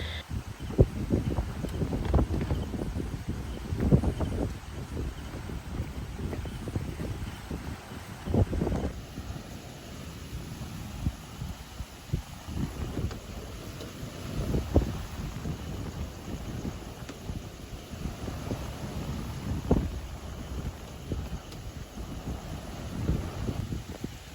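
Strong wind rushing and buffeting steadily for a long stretch at night at a beach resort, with rumbling gusts and rustling, no voices.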